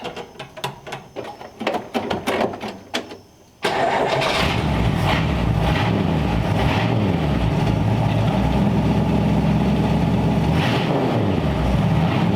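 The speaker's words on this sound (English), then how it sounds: "Aim this here, cold start this thing up." A 1934 Ford Tudor engine cold starting: a few seconds of rhythmic cranking, then it catches and settles into a loud, steady idle with a slight uneven pulse, close up and without talk.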